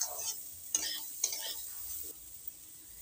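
A cauliflower filling seasoned with turmeric, chilli powder and cumin is stir-fried in a pan for paratha. A low sizzle runs under a few sharp spatula scrapes and clinks. It is quiet, with no speech.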